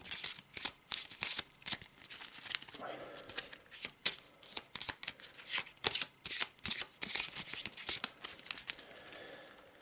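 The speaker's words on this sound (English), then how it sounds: "Quick shuffle." A deck of mine map cards for a tabletop board game being shuffled by hand, a close, crisp run of repeated riffling and sliding bursts over several seconds, with no talking.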